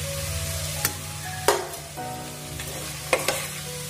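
Boiled potatoes tipped into a frying pan and stirred with a spoon, giving a few sharp clatters and scrapes over a low, steady sizzle, heard alone at moderate volume.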